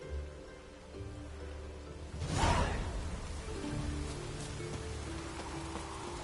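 Soft steady rain patters in the background of the video game The Witcher 3, with a brief whooshing swell of rain-like noise in the middle; no talking.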